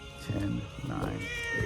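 A pet cat meows and whines indoors, several drawn-out cries close to the listener, overlapping with a man counting aloud.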